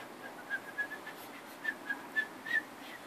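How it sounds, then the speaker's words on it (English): A baby blows a toy whistle in a string of short, fairly quiet toots, about eight brief bursts spread unevenly over three seconds, with no talking in between. "One more whistle."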